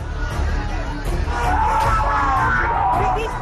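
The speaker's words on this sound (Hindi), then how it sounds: "नारेबाजी" Crowd of stranded migrant workers on railway tracks shouting slogans, a loud, dense mass of yelling voices, close and continuous with rising calls over the din.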